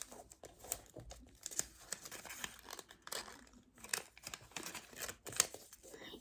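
Paper folded into an origami squirrel, with soft crinkles and sharp creasing rustles in irregular bursts, close and fairly quiet, with no talking.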